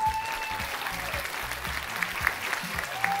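Audience applause for singers on a community arts stage, a steady wash of clapping with a few sharper claps standing out and faint voices mixed in, moderately distant.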